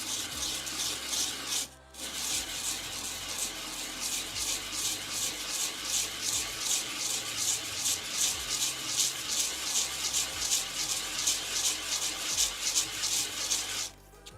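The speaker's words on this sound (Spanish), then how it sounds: "tengo bastante más para lijarlo." Sanding of a handmade ceramic tile, a steady rhythmic rasping scrub with repeated strokes, close and fairly loud, briefly pausing once near the start and stopping at the end.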